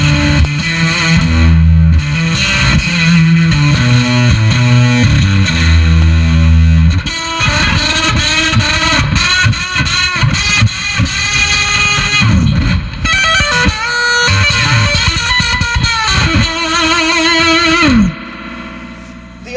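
DIY Fuzz Factory clone fuzz pedal driven hard, loud squashed and broken-up distorted tones with buzzing, gated sputters and shifting squeals that stop abruptly near the end.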